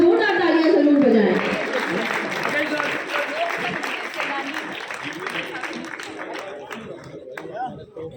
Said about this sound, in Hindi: सम्मान में कम से कम एक बार जोरदार तालियां जरूर बजाएं